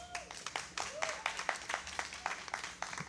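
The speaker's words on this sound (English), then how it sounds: "let's give Nibadi a big round of applause." Audience applause at a live jazz club event, a burst of scattered hand clapping with some crowd noise, moderately loud and continuous for a few seconds.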